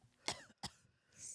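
Two sharp coughs from a person on a live London radio podcast, close and fairly loud, spaced about a third of a second apart and followed by a soft breath, with no speech.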